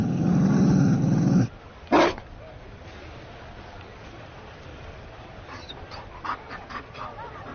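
A Mabari war dog in the Dragon Age video game pants heavily and gives a short growl at the start, then fades into quiet game ambience.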